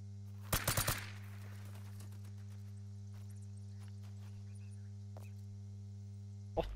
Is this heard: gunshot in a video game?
yes